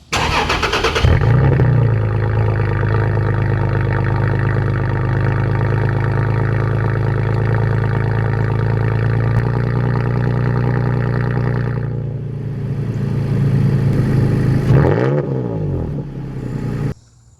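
A pickup truck fitted with a performance exhaust starts and idles with a deep, steady rumble, close and loud, surging briefly in a rev near the end before it cuts off.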